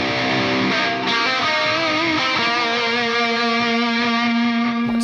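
A distorted metal/djent guitar tone played through an HX Stomp rings out loud and sustained, with a stereo delay trailing and smearing the notes into a continuous wash; no voices.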